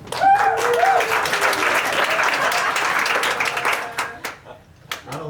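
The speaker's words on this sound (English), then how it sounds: "you burst into peals of applause" Audience applause fills a room at a birthday show, a dense wash of many clapping hands that swells near and loud, then thins and tapers off toward the end.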